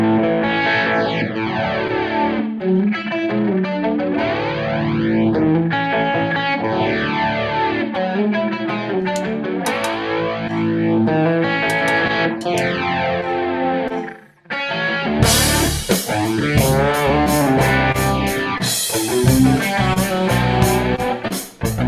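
A rock backing track led by heavily distorted electric guitar with swirling phaser and chorus effects, playing continuously and loud, with a brief dropout midway before a denser, fuller section comes in.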